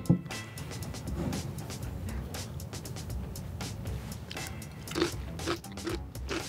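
A crunchy pickle, lighter in color and seeded, bitten and chewed close up, with several crisp crunches rising above a steady low background rumble, and no talking.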